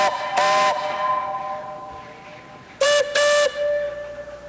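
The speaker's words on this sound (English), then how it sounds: "the silence is broken by the sound of a distant whistle" A steam locomotive whistle sounding in the snowy White Mountains of New Hampshire: one short blast, then two longer blasts in quick succession, bright and harmonic, carrying over a low background rumble.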